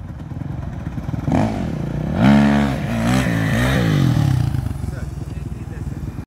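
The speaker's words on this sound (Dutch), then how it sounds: "Oh, supermotor, dik hoor." A supermoto motorcycle engine idles, then revs up in a couple of rising and falling bursts before settling back, heard fairly close outdoors with voices around it.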